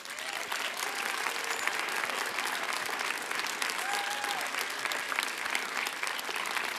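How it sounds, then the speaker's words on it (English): Sustained applause from an award ceremony audience, broad and steady throughout with a few faint voices and whoops rising above the dense clapping. "I want you to give them a huge round of applause"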